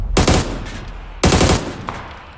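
PUBG gunfire in a video game, two loud close bursts of rapid automatic shots, each a quick cluster of sharp cracks followed by a brief pause.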